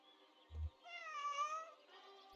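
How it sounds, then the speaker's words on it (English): A cat in the video game Kentucky Route Zero gives a single drawn-out, mournful meow, faint and clear against a quiet background, preceded by a soft low thump. "Sad Meow."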